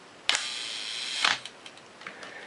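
A Pentax K film camera fires its shutter at a one-second speed, giving a sharp mechanical click, a second click about one second later, then a few faint ticks as the mechanism settles, close and clear with no talk.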